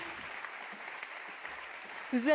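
Faint, steady clapping from a seated audience in a conference hall, a soft even patter that runs throughout before a voice briefly cuts in at the very end.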